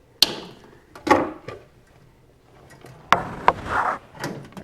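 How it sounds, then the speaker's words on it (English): Electrical wire being snipped off a light fixture: a few sharp clicks and cuts spaced irregularly, with soft handling rustle in between, close and moderately quiet. "I'm going to cut this piece off because I don't need that white neutral line over here."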